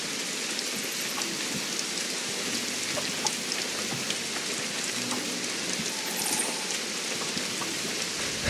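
Steady rain pattering across the ground in the video game The Isle, a dense, even hiss of drops that stays constant throughout with no voices over it.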